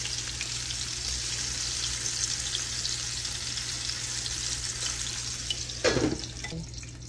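Vegan patties sizzle and fry in a pan after being flipped: a steady, close hiss throughout, with a brief clatter near the end.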